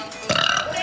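A single loud, close burp with a rough, croaking texture lasts about half a second, with no talking.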